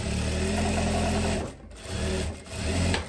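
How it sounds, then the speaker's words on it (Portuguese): A straight sewing machine stitches the back crotch seam of tailored shorts in a steady, continuous motorized whir, briefly pausing twice before running on again. "Eu já vou fechar o gancho traseiro aqui na reta. E fazer as minhas pences."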